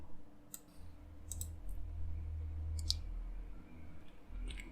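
A few sharp computer mouse clicks, spaced irregularly over a steady low room hum, while designing an Android app layout; no one speaks.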